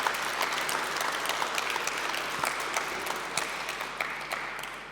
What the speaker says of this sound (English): So applause to all the people who come from the public service.